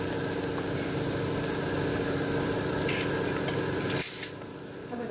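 Spices, chili paste and green chili paste sizzle in hot oil with turmeric and coriander-cumin powder while being stirred for guvar dhokli. There is a steady close sizzle, with a clatter of a utensil near the end.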